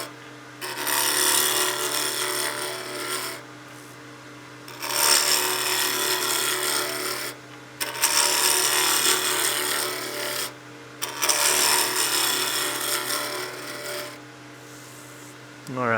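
A wood lathe spins a wooden piece at about 2200 RPM while a tool scrapes against it in four long, raspy bursts separated by short pauses, over a steady low motor hum.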